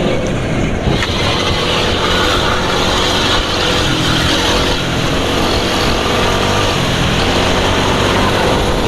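A motorcycle engine running on fresh Pertamina Fastron Techno 15W40 oil runs steadily close by, a smooth, continuous low rumble and whine with no pauses and no talking.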